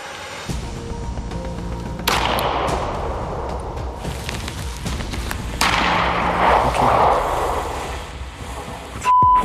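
Gunfire at a shooting range, with a few loud sharp blasts spaced several seconds apart amid a noisy background and a brief beep near the end.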